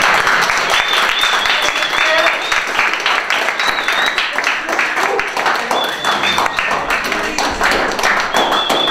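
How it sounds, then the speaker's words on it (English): Round of applause from an audience for a guest named Vicky after a business studies talk and question session, steady and moderately loud for several seconds, with some voices mixed in under the clapping. "Can you wrap a round of applause for Vicky"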